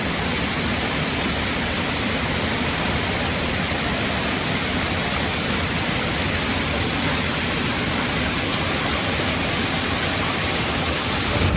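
A river and waterfall at the Curug Sadim campsite in Subang give off a loud, unbroken rushing roar that stays constant and near throughout, with no voices over it.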